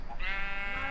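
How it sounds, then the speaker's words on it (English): Sheep bleating in the Minecraft video game, a single short bleat heard close and clear on its own. "we managed to get a sheep"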